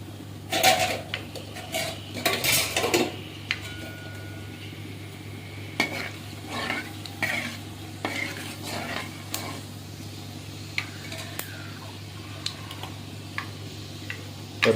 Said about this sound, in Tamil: சூடு எண்ணெய்னா அந்த மாதிரி சோம்பு, வெந்தயம் பொரிஞ்சிருச்சு